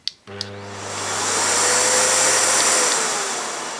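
A Miele S4780 cylinder vacuum cleaner, hose detached, clicks on and its motor whirs up into a loud, steady rising whine, heard alone and close.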